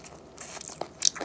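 Sucking marrow from a cooked bone while eating Chinese food, a short close wet slurp with small crunchy clicks, quiet and brief.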